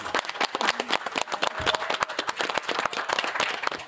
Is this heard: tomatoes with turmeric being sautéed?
no